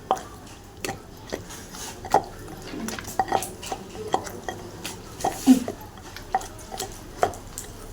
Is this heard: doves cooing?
no